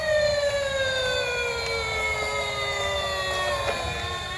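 Electronic siren from a red knockoff toy fire truck with a weakening battery, a steady wailing tone with several harmonics sweeping slowly downward, sounding alone and close for a few seconds.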